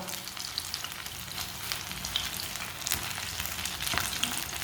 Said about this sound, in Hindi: कितने अच्छे फ्राई हुए हमारे कबाब